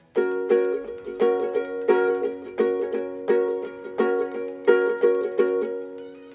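A ukulele strums a full ringing chord in a steady down-up pattern, the bright strokes repeating evenly for several seconds.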